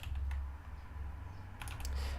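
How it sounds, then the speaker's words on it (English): Fingers tap on a computer keyboard in short, quick bursts of light clicks, close and quiet over a low steady hum, with no talking. "You can toggle this by typing ZH."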